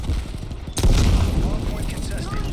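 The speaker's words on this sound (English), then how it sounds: "Artillery inbound." Artillery strike explosions in Call of Duty Black Ops Cold War land as a sudden loud boom and keep rumbling as a dense barrage of blasts, with voices talking in the game throughout.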